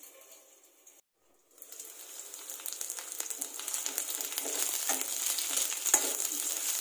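Drumsticks frying in hot oil, a bright steady sizzle that builds and thickens after a brief pause, close and continuous with faint crackles.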